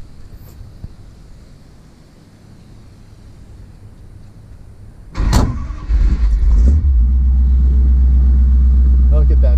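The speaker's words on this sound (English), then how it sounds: "So I'm gonna take this car for a drive" A 1950 Ford shoebox car engine starts up partway through and settles into a loud, steady running rumble. A faint voice is heard earlier over quiet background.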